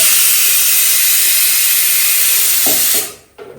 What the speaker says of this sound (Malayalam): എൻ്റെ ചെറുപയർക്കറിൻ്റെ ആദ്യ വിസിൽ വന്നിരിക്കുന്നു ഗൈസ്